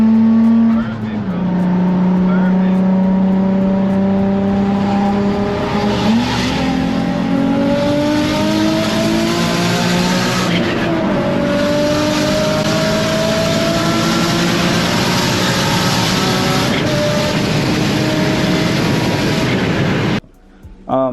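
A Nissan 350Z with a VQ engine tuned past 500 wheel horsepower races a Lamborghini. A loud, sustained engine roar climbs in pitch through the gears for about twenty seconds, then cuts off abruptly.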